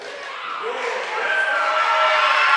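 A crowd at a girls high school basketball game, East Carter visiting West Carter, rises with a steady, swelling roar of cheering and shouting in a gym, loud and building across the whole stretch.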